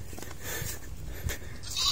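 A goat bleats on a rice farm in the Philippines, a couple of short wavering calls over faint outdoor background noise with no talking.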